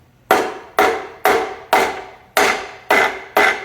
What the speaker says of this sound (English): you're going to want to get a rubber mallet. And you can just tap right on the bottom of this